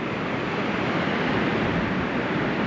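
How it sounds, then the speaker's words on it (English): High waves on a lake near Chicago with strong wind, a loud, steady roar of surf and gusting air filling the whole moment with no voices. "The waves are so high, but"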